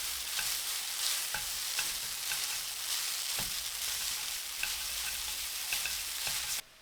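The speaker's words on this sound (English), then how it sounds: "Flip them over and let them grill for another 5 minutes." Chow mein noodles fry in a hot pan with vegetable and sesame oil, giving a steady close crackling sizzle with occasional soft taps of the pan, no voices.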